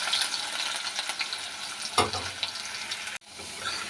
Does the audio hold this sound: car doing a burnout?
no